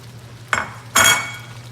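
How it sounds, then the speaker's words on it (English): Cheese being stirred into bubbling amatriciana sauce in a pan, two short scraping, sizzling strokes close by over a low steady hum. "stir in the cheese to thicken the sauce and to season it"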